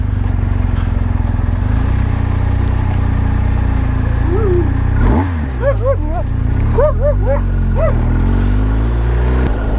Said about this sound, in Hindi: सारे कुत्ते मेरे पीछे लग रहे हैं